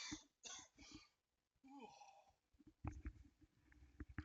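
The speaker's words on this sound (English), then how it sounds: "1 second, I got a cough again." A person coughs several times in quick bursts near the microphone, then clears the throat with rougher, heavier coughs, loud and close with no other sound.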